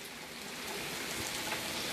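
Heavy rain falling steadily, a dense, even hiss of drops pounding surfaces nearby with no breaks or voices.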